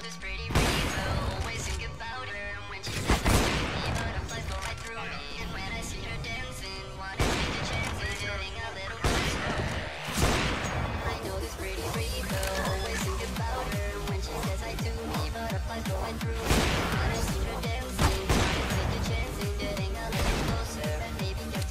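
Counter-Strike: Global Offensive gunfire, with bursts of loud shots and heavy impacts recurring every few seconds over continuous game sound and music, no clear talk.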